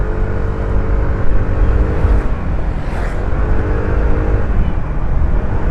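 An Easy Ride 150P scooter engine and exhaust rev hard, a continuous buzzing drone with a brief swell near the middle, close and loud with wind noise, no talk.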